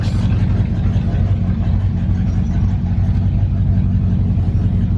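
A Catalina with a freshly worked carburetor rumbles on its first drive after repair, a loud, steady low engine drone that holds evenly from start to finish with faint talk underneath.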